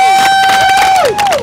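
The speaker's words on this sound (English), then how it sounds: "In the crowd, let's give her a round of applause." Crowd at an outdoor political rally opposing a congressional bill cheers loudly, with whoops and shouts rising and falling over about a second and a half, close and energetic.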